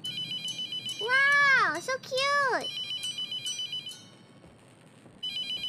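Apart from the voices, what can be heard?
phone ringing in video game The Mortuary Assistant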